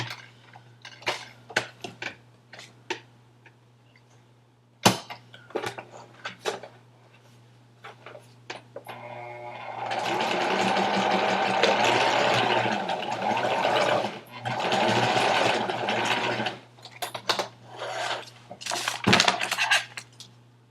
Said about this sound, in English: Okay, so we're going to sew them this part together first.